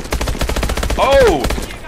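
Loud, fast machine-gun fire from Call of Duty: Advanced Warfare, a steady stream of evenly spaced rounds with a brief whining sound partway through and a voice speaking under the shooting.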